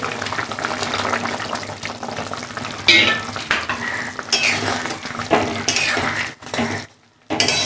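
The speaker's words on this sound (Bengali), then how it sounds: "গ্রেভিটা ফুটে গেছে, এবার আমি পনিরটা দিয়ে দিচ্ছি" Paneer going into a boiling potato and pea gravy in a pan, with bubbling sizzle, spoon and pan clatter and stirring scrapes close by, no talking.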